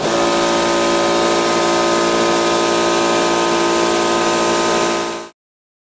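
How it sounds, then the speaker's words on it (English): A Harbor Freight air compressor runs loud and steady with a harsh, buzzing mechanical drone, heard from about twelve feet, then cuts off abruptly to silence. "Now we'll move back to 12 feet and test the Harbor Freight compressor."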